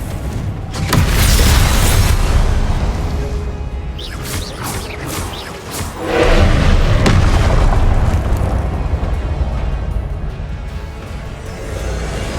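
Confringo blasting spell explosions in the video game Hogwarts Legacy: two heavy booming blasts with crackling debris, each swelling and then fading into a long rumbling tail.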